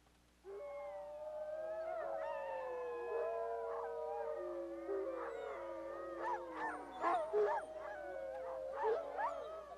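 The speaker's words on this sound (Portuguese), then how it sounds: "O fazendeiro precisa tocar a gravação de uivos de lobos rivais" Recording of a rival wolf pack's howls played through a loudspeaker, several overlapping long, wavering howls rising and falling together, joined later by yips and broken cries, heard alone against a quiet, low background hum.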